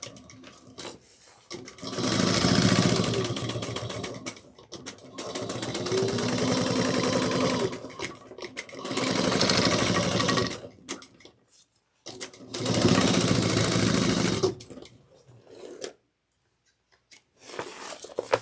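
Sewing machine topstitching the lining of a tote bag, running in several sustained whirring bursts separated by short pauses, close and steady with no talking.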